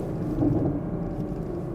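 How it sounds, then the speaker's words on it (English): A Chevy Camaro SS idling smoothly, its engine giving a steady, low rumbling drone heard fairly close, with no voices over it. "Car sounds healthy, runs smooth."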